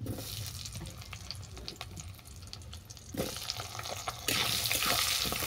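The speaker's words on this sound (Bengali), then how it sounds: "আলুটাকেও বাদামি করে ভেজে নেব।" Cut potatoes frying in hot oil with bay leaves and dried red chillies, a constant hissing sizzle that swells louder toward the end, close and without talk.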